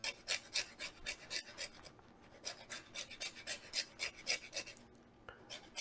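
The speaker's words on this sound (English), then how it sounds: "come back with a little bit of zest on top of it, just to give it a little bit extra oomph" Key lime rind is scraped over a grater above cooked ribs in quick, rhythmic rasping strokes. The scraping is close and clear, pauses briefly, then resumes.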